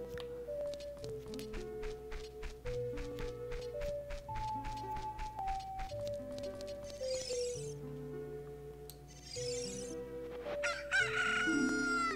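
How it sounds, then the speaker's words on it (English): A rooster crows repeatedly in the castle courtyard of the video game The Legend of Zelda: Ocarina of Time, heard over steady, tuneful background music. "is that a chicken?"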